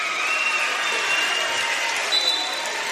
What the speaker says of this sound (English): Archbold fans know it. They come to their feet and applaud the effort here by the Blue Streaks